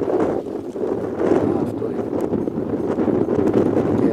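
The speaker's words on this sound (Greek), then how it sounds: "Έχει δυναμώσει τώρα ο αέρας πιο πολύ." Strong wind gusting on Santorini, roaring as a steady, loud broadband rush that buffets the microphone without letup.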